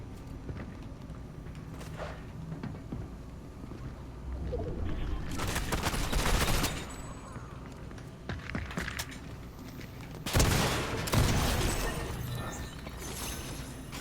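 Bursts of Fortnite gunfire ring out from an unseen shooter, rising into loud broadband volleys around the middle and again near the end, with quieter rustling and scattered movement sounds in between.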